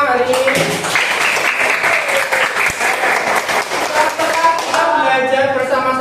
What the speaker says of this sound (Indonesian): oke semuanya, beri tepuk tangan buat kita semua hari ini.